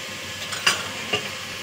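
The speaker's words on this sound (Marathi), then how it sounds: "लसूण आणि जिरं फ्राय झालेलं आहे" Garlic and cumin frying in oil, a steady soft sizzle with two brief sharper crackles or stirring clicks, close and fairly quiet.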